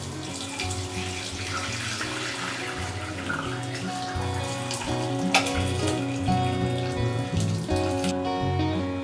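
Whey water drains off freshly made chhana through a strainer, producing a steady splashing trickle of pouring liquid that runs continuously without talk.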